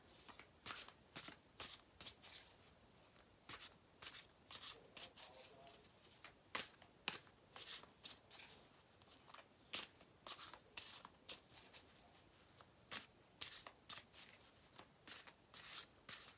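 A tarot deck being shuffled by hand, repeated crisp riffling bursts in an irregular rhythm, close and quiet, with faint talk now and then.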